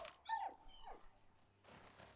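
A dog in the video game Icarus gives a few short whimpering yips and whines, close and fairly quiet, followed by a brief rustle.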